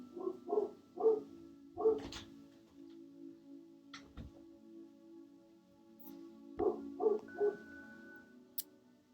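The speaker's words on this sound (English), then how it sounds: "Let me get my dog out of here." A dog barks indoors in two short clusters of quick, fairly faint woofs with quiet gaps between them.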